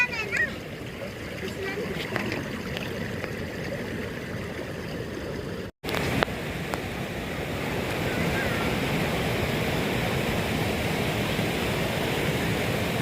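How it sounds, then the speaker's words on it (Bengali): Mountain stream water flows continuously along the Bijli Mahadev trek in Himachal Pradesh, a broad steady rushing with wind buffeting the microphone and a brief dropout midway. "চারপাশে জলের ধারা"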